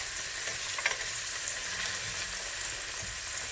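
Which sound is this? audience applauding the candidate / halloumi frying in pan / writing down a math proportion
halloumi frying in pan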